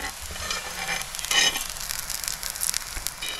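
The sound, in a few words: ghee sizzling around jowar coriander thalipeeth in pan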